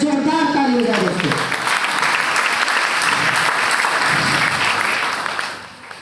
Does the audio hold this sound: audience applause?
yes